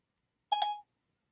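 A short electronic alert tone on a smartphone sounds as the Siri voice assistant activates, a single brief chime of about a third of a second, clear and close, with no talk around it.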